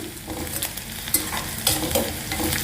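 Curry leaves and plenty of crushed garlic crackle in hot oil over low heat, a close, lively sizzle with spatters and brief stirring scrapes and no speech.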